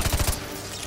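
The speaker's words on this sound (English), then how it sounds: "Okay, there you go. Flashbang." Flashbang grenade going off in Call of Duty Modern Warfare 2 Remastered, heard as a quick run of four loud, punchy bursts followed by a ringing, hissy fade with no talking.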